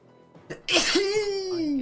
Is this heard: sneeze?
yes